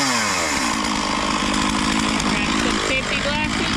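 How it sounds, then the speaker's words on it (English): A 17-year-old chainsaw runs loud and close with a steady buzzing drone, engine pitch wavering slightly, while a voice is faintly audible underneath. "We have the tractor running and the chainsaw running"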